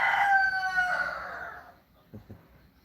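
A single long rooster crow, clear and fairly close, fading out into a couple of soft low thumps.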